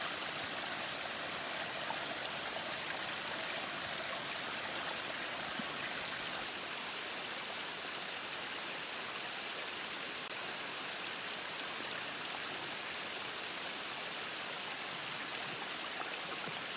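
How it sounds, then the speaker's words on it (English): Small mountain stream on a backpacking trip in Cataloochee, water trickling out over a laurel leaf into bottles: a steady, dense rush of flowing water, close and even throughout, with a slight change in tone partway through and no talk. "we actually put a laurel leaf right there to make the water flow out a little bit faster in one little area so we can fill up the bottles"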